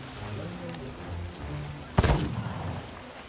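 Pistol gunfire from Sea of Thieves, with a burst of shots around the middle of the clip, loud against a busy game background.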